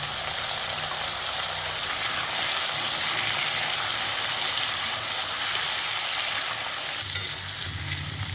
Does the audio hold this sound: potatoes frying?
yes